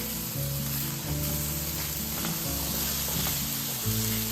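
Cubed butternut squash and minced garlic stirred in a hot pan, a steady close sizzle throughout with soft scraping of the utensil against the pan and no talking.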